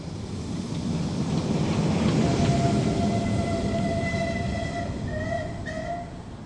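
A train rolling along rails with a steady broadband rumble and rushing noise, plus thin high squeals from the wheels rising toward the end. It is loud and continuous, with no voices.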